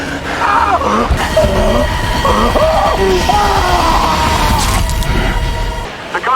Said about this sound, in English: What was that screaming?